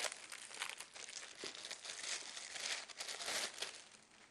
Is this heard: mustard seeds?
no